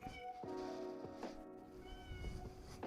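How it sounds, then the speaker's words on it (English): A neighbor's cat meows several times in an office, soft and fairly close, the cries drawn out and separated by short pauses. "This is the neighbor's cat. He's trying to get out of here."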